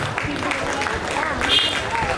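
An audience claps at a felicitation ceremony during the Mahishadal Rath Yatra, a steady, fairly close round of applause with a voice talking over it.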